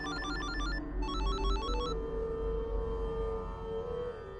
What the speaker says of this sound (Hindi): मैं पुलकित को फोन करती हूँ।